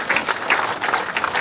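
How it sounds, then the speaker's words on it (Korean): A seated audience applauds at a city hall public meeting, a brief burst of dense, steady clapping from many hands, close and fairly loud. "박수 한번 쳐주실까요?"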